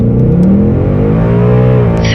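E85-tuned Mustang accelerating hard down a quarter-mile run, heard from inside the car: a loud, continuous engine roar climbing in pitch through the gears, with no talking over it.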